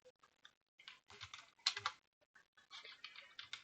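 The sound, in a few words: typing a command on a computer keyboard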